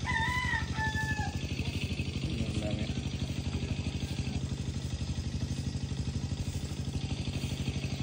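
A rooster crows loudly near the start over a steady e-bike rumble in the rural Philippines, with chickens clucking faintly in the background.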